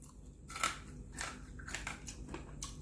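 Crispy pan-fried pork belly crunching as it is bitten and chewed, several crackly bites in a row, close and moderately loud, with no talking.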